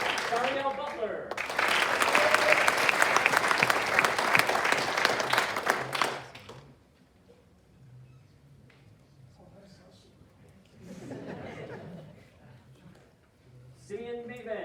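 Audience at a senior awards ceremony claps loudly for about five seconds after a student's name is called, then the applause cuts off into quiet room tone with brief speech before and after.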